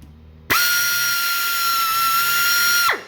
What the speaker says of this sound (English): So I'm going to drill right there.